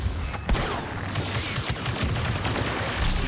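Dense, continuous gunfire in the Star Wars Battlefront 2 video game, loud blaster shots and impacts crowding together with rumbling explosions underneath.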